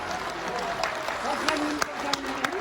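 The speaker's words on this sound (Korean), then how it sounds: "이몽조 박사님께도 감사의 박수를 보내주시기 바랍니다" Audience applause at a lecture gathering, a moderate wash of clapping with a few sharper claps, under voices talking over it.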